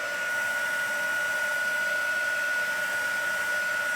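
A heat tool blows steadily while drying ink on a card, giving a constant, close, airy whoosh with a thin high whine held at an even level throughout.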